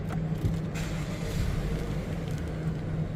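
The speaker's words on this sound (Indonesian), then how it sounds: "untuk nyalain mesin tinggal injak pedal rem dan tekan engine start button di sebelah kiri speedometer sini untuk menyalakan mesinnya" A Toyota Alphard, the new non-hybrid G type, idling smoothly after a push-button start, its engine giving a steady low hum that holds evenly throughout with no voices.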